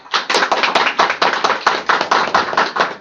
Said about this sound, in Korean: 제가 교수님 소개할 때 많은 박수로 환영의 인사해 주시기 바랍니다.